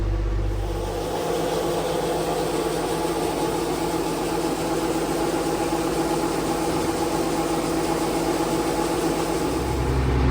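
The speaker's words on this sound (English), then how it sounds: "got this old Case JI, I think is what they call these things. 180 horsepower tractor." An old Case 180-horsepower tractor engine runs at a steady, loud, vibrating drone in the field during corn harvest, close and continuous with no speech.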